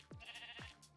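Two short sheep bleats in a video game, close and clear, one after the other with a brief gap, alone without talk.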